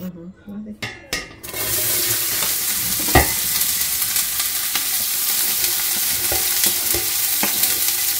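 Onions and garlic fry in oil and get stirred, a loud, steady sizzle that starts after a few brief knocks and continues with occasional scraping clatters of the spoon.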